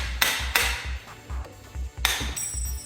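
A hammer strikes metal while knocking off a shifting rod clip on a baked 3.2 V6 Busso engine, with several sharp ringing blows spaced irregularly, close and loud, over a low pulsing hum.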